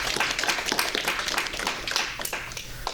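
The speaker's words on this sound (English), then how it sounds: "Can we give him a round of applause?" A small audience claps after a student presentation on world building, giving dense, steady applause that sounds close and fills the whole moment without any talk.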